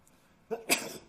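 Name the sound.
sneeze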